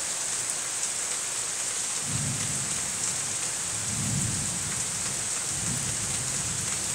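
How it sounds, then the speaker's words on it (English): Steady heavy rain hisses on surfaces during an Arkansas thunderstorm, and three low rumbles of fading thunder roll in at intervals beneath it. No one speaks. "the thunder's going away, but it's raining harder now"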